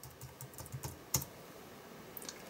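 Keystrokes on a computer keyboard, a short run of light, close clicks with a sharper tap near the middle and a few more at the end, quiet and with no talking.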